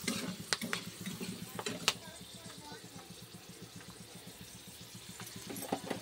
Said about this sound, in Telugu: వెల్లుల్లిపాయ కొంచెం మెత్తగా ఫ్రై అవ్వాలండి